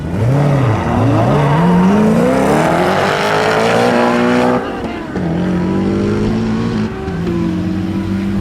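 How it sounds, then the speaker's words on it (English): Loud race cars, including Koenigseggs, roar and rev hard on a closed runway, engines climbing in pitch as they accelerate away, with a brief dip before another car screams past. "now it's time to go back and watch some of the cars drag racing"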